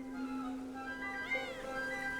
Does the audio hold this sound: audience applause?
no